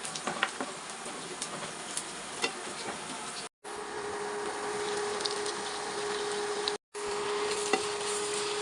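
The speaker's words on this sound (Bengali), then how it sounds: "দেখুন করলা ভাজিটা বসিয়ে দিয়েছি।" Frozen bitter gourd (karela) fries in a pan with a soft, steady sizzle, faint and close, interrupted by two brief dropouts, with no one speaking.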